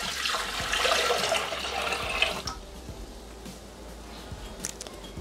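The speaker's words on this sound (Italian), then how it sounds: "Iniziamo la ricetta mettendo all'interno del boccale l'acqua," Water pours into a Thermomix TM6 mixing jug at the start of a summer pasta salad recipe, a close, steady splashing gush for about two and a half seconds that then drops to a quiet trickle and faint drips.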